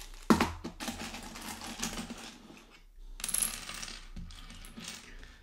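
Plastic LEGO bricks poured out of a container onto a pile, two separate bursts of bright rattling clatter, each fading into scattered clicks.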